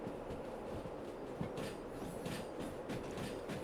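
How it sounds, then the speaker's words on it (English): A train in Derail Valley rumbles steadily along the rails with rhythmic clattering, a continuous low mechanical roar throughout. "I love riding a train like this."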